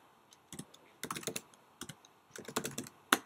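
Computer keyboard typed in quick clustered bursts of key clicks, close and fairly quiet, with short pauses between groups and no talking.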